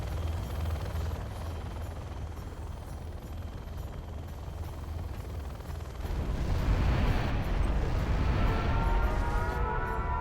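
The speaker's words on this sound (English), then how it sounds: "next nuke will fire in 5 seconds." A nuke strike in a strategy video game: a steady rumbling roar that swells into a louder, broader blast partway through, sustained and continuous with no talking.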